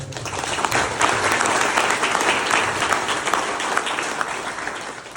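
A student audience at a campus talk breaks into dense, sustained applause, many hands clapping at once in a loud, steady wash that tapers slightly toward the end.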